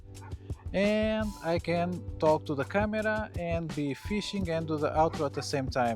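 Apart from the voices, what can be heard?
dog barking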